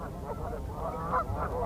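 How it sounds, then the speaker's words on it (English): Canada geese on meltwater ponds honk repeatedly in a dense, overlapping flock chorus, steady and fairly close with no talking. "The ponds that the meltwater is forming make great places for water birds like these Canada geese."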